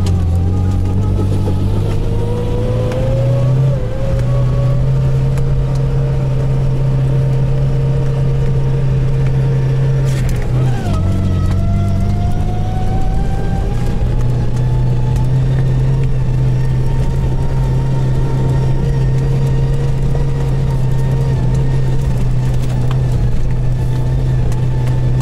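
4x4 off-roaders, including a Toyota Tacoma, Prado, UAZ, Niva, Renault Duster and Nissan, accelerating off the line in a drag race, engines droning loud and steady with pitch rising and shifting as they gear up.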